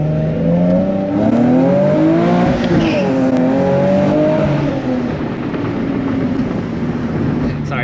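A tuned Nissan 370Z accelerates hard through a pull, its engine note climbing steadily and loudly with a rising, sustained roar close by.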